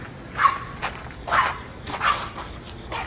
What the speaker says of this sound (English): You wouldn't even hear our dog barking.